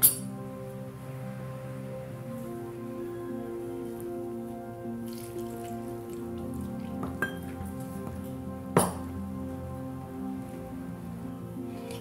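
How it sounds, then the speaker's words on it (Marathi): Water is trickled into onion pakora batter of gram flour, turmeric, red chili powder and baking soda as it is mixed, giving a steady soft pattering with a couple of faint clinks against the bowl. "आता पूर्ण आपण थोडं थोडं पाणी टाकून याला भिजवून घेऊया"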